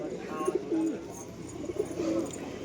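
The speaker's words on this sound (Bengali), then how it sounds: "নর পায়রা আছে, তোমরা কিন্তু পাবে ভালো কোয়ালিটি পায়রা।" Pigeons at a busy pigeon market in Sarenga, West Bengal, give soft repeated cooing calls close by over low crowd murmur.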